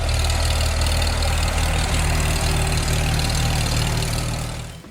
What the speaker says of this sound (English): Today, those same tractors still start up after a quick spin of the crank, proof that honest engineering never dies.